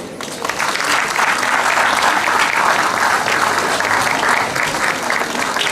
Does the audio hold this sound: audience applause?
yes